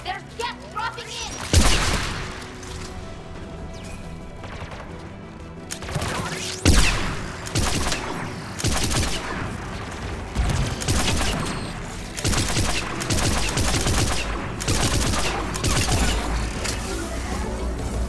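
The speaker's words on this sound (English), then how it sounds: "There, the anti-aircraft gun." Anti-aircraft gun firing in Mass Effect 3 amid Geth attacks, loud heavy booming shots at irregular intervals over continuous battle noise and rumble, with occasional voices.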